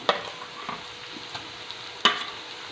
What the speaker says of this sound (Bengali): দিয়ে আরও কিছুক্ষণ একটু নাড়াচাড়া দেবো, দিয়ে এটা ভাজা ভাজা করে নেব